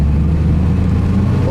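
A beige 1936 Bentley Derby 4¼ Litre rolling along in second gear, its engine a loud, steady low rumble close to the microphone throughout.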